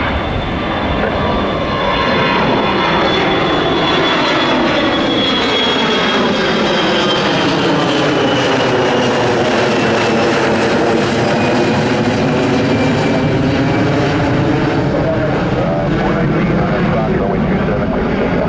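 A United airliner jet taking off at Miami airport roars loudly and steadily, its engine tone sweeping as it climbs past, with a voice talking over it.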